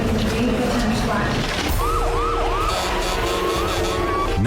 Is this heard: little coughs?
no